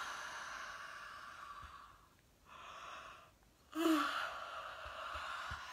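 A person yawns: quiet, drawn-out breathy exhalations with a short pause, then a louder stretched breath toward the end, with no talking.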